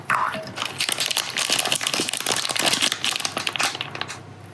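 Close, continuous crinkling of a plastic packet being handled, with crackly rustles rising and falling for several seconds.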